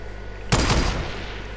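A single loud gunshot crack in an online shooter game, a sharp burst followed by a short decaying rumble and tail, close and alone.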